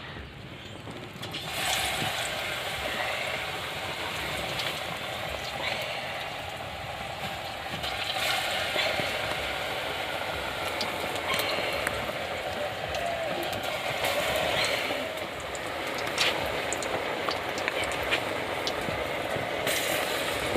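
Banana pakoras sizzling in hot oil in a home kitchen, a steady, continuous frying hiss that holds an even level throughout with no pauses.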